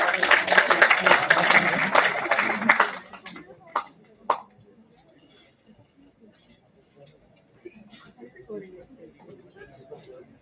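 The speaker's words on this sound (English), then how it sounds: "Let's have a huge round of applause for her." Audience applause at a finance conclave as a memento of appreciation is presented, a dense burst of clapping for about three seconds that quickly fades, leaving a few scattered claps and faint room murmur.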